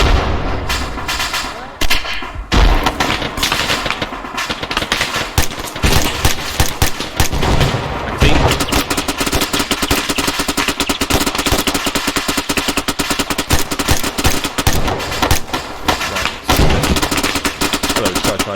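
Loud, continuous barrage of gunfire and heavy artillery-like blasts throughout a 60mm mortar fire mission during an Arma 3 platoon ambush training session, with dense overlapping shots and booms but no clear talk.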